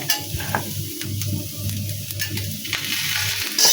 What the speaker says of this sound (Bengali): মাছটা খুব বেশি ভাজা ভাজা করব না আমি এই যে মাছটা প্রায় ভাজা হয়ে গেছে